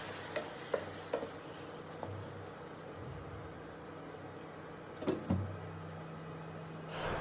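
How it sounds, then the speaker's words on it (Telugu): A tomato and drumstick curry is stirred in a pan, with quiet scraping and clinks of the spoon against the pan at irregular moments over a soft simmering sizzle. "చూసారు కదా, ఇలా అప్పుడప్పుడు తిప్పుతూ ఉండాలి"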